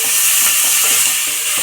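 Dried red chillies and curry leaves frying in hot oil in a pan for bitter gourd masala curry, giving a loud, steady, close hiss and sizzle with no pauses.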